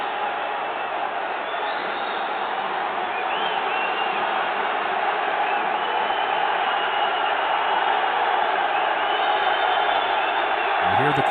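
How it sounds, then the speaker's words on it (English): A basketball arena crowd at a FIBA World Cup 2023 qualifier between El Salvador and Nicaragua keeps up a steady, loud roar with occasional rising cheers throughout. "You hear the crowd"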